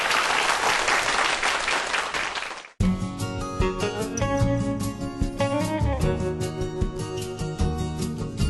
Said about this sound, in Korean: 여러분들 큰 박수로 강연 청해 듣도록 하겠습니다.